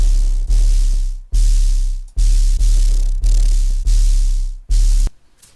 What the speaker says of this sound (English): once we have Eroder on, it sounds like this.